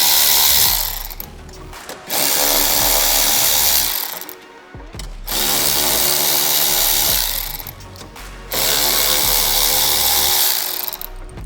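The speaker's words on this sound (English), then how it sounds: "Just get your 10mm socket and take it off." A power tool with a 10mm socket removes the four top grille bolts on an 11-16 XB during a headlight install. It runs in three loud, close bursts separated by brief pauses.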